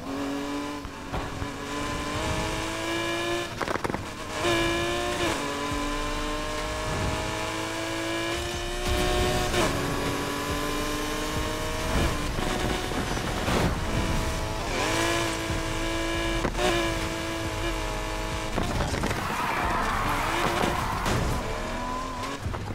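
A Ford Mustang GT tuned for racing rather than drifting in the video game Need for Speed Heat, its engine revving loudly and continuously with repeated bursts of tire squeal and skidding over about twenty seconds.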